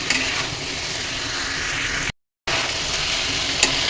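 A vegetable curry of pointed gourd and stems sizzles steadily as it is sautéed and stirred in a hot pan, giving a continuous frying hiss broken by one brief dropout.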